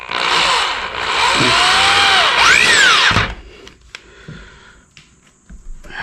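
A power drill drives screws into an iron throne build with a loud, close whine that revs up and down in pitch for about three seconds, then cuts off, leaving faint handling noises.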